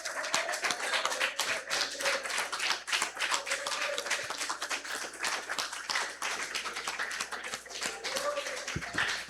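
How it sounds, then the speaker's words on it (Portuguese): A church congregation claps in praise after a sermon, dense crowd clapping with sharp irregular hand strikes throughout, moderately loud, with voices faintly mixed underneath. "honrar o Senhor com uma linda salva de palmas?"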